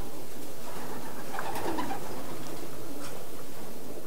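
Racing pigeons at a one-loft race facility cooing softly, a few low, throaty coos in the middle of the clip over a steady background hiss of the loft.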